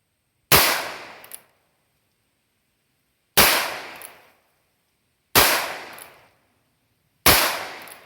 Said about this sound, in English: we're going to see just how accurate of a shot this thing can really be at 7 yards. I'm going to do 5 shots.